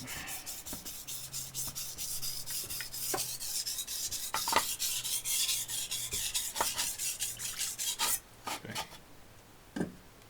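Knife blade rubbed in repeated strokes across a whetstone during sharpening by a barbecue pitmaster, a steady rasping scrape with regular stroke rhythm, close and fairly loud, ending in a few separate short strokes.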